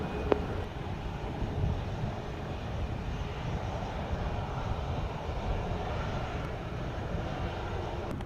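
A Southwest airliner on runway 07 at Denver gives a steady, broad jet engine roar that holds for the whole stretch, with light wind noise and no speech.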